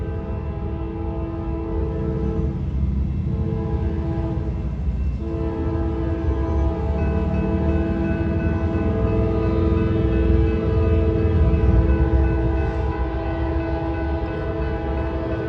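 A long Norfolk Southern freight train, with a trailing Dash 9 and two C6M locomotives, rumbles steadily past with a continuous low roar and droning engine tones, loud and unbroken throughout.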